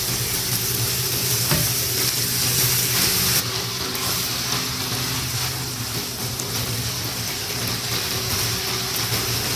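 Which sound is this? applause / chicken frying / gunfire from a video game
chicken frying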